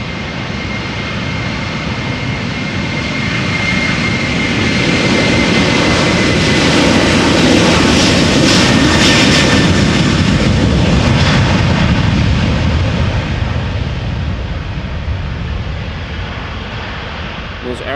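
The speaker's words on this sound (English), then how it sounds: "first we'll see this Airbus A330 from KLM to Sint Maarten take off" A KLM Airbus A330-200 takes off at Amsterdam Schiphol, its jet engines building to a loud sustained roar that peaks midway and slowly fades as it climbs away.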